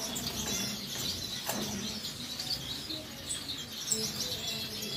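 Small finches in breeding cages, such as Gouldian, owl and star finches, chirp and twitter faintly and continuously, with thin high calls overlapping in a quiet aviary and no voices.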